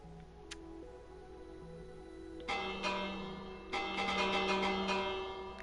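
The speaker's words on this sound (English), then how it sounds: "I'm allowed to ring the bell sometimes" A bell in a Minecraft castle build rings twice, each strike bright and metallic with a ringing decay, the second following about a second later over a soft sustained background tone.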